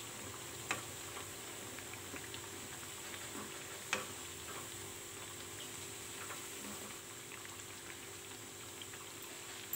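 Pakoras fry in hot oil while being turned, giving a steady, faint sizzle and bubbling with a couple of soft clicks from stirring, with no voices.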